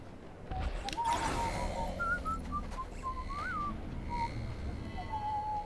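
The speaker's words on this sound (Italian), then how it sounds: "C'era uno che stava fischiettando la marcia imperiale." Someone whistles the Imperial March in the Lego Star Wars video game, a thin melodic tune of separate notes over a constant noisy game background.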